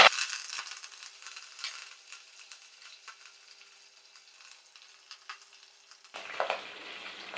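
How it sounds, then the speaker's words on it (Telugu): Urad dal, mustard seeds, cumin and curry leaves frying in hot oil for a tamarind rice tempering, a crackling sizzle with scattered pops that fades in the middle and flares again near the end. "అది ఎగుతా ఉండగానే కొద్దిగా మినపప్పు కొద్దిగా ఆవాలు ఎక్కువ వేయకూడదు కొద్దిగా జీలకర్ర ఎగుతా ఉండగానే కొద్దిగా కరివేపాకు"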